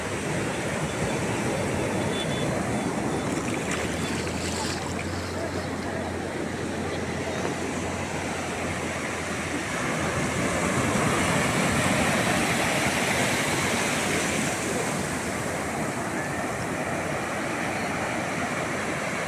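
Sea waves at Upada beach in Andhra Pradesh, a deep stretch of coast with fishing nearby, giving a steady, dense roar of surf that holds throughout with no pauses.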